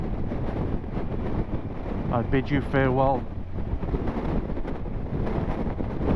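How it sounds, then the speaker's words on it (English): Heavy wind buffets the microphone with a constant low rumble on a cold, snowy day in Holmfirth, while someone speaks briefly partway through. "on this very windy, cold, snowy day"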